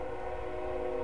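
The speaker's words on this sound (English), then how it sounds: "Oh, we got a stupid train." A train in a farming video game gives off a steady tonal horn-like drone with a low rumble beneath it, constant and fairly faint across the short moment.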